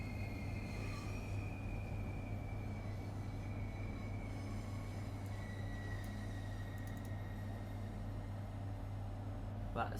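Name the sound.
Class 395 Javelin train moving, from video game Train Sim World 4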